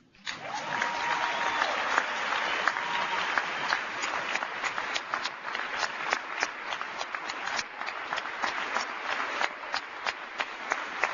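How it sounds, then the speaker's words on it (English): A large audience at a Faith & Freedom Coalition event bursts into sustained applause after a brief hush, a dense, steady roar of clapping that continues for the whole stretch. "would you just give a rousing round of appreciative applause to Ralph Reed"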